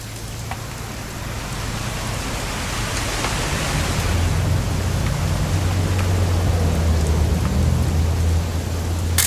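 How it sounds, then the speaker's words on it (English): Steady rain pours in the video game What Remains of Edith Finch, a dense unbroken hiss of falling water with a low rumble underneath, continuous throughout with no voices. "It's gonna rain the whole weekend, isn't it?"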